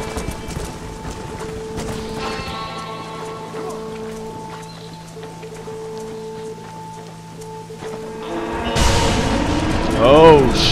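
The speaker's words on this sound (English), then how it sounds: "They're spooked. We have to stop the stampede." Cattle hooves thunder in a stampede in the video game Red Dead Redemption. After a long stretch of talk and game ambience, a sudden loud rumble of many hooves rises near the end.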